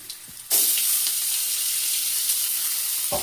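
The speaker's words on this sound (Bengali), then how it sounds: "আমি এরপরে পনির দিয়ে দিচ্ছি।" Paneer dropped into hot oil with cumin, coriander powder and garam masala bursts into a loud, steady close sizzle after a brief quiet start, hissing on continuously with a faint scrape near the end.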